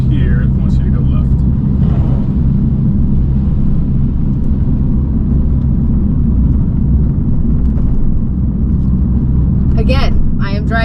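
A low car drives along flooded English country roads, its steady engine rumble and road noise filling the cabin, loud and continuous, with people talking briefly over it near the start and end.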